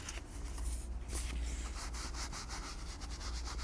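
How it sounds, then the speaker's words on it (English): A paper towel rubs excess finish off a wood surface after sponge application, giving a steady, close scrubbing and swishing that continues for several seconds with no talking. "I like to take a paper towel and rub. Take any excess off onto the towel."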